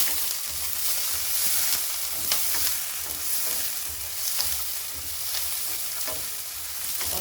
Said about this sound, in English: we are just now frying up the onion and the scallion so we can release some flavor